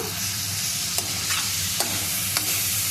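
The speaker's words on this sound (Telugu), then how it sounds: "ఉడికింది ఉల్లిపాయ ఇందులో అల్లం వెల్లుల్లి పేస్ట్ వేస్తున్నా" Ginger garlic paste frying with cooked onion for a chicken curry, a steady loud sizzle with a few sharp scrapes of a spoon stirring the pan, no voices.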